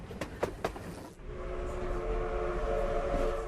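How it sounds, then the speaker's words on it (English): A train on jointed rails gives a few sharp rhythmic clacks, then settles into a steady rumbling roll with a droning tone, heard without any talk. "the sound of the clickety-clack of the jointed rails provided the rhythm of the rails"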